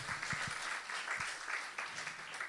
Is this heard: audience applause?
yes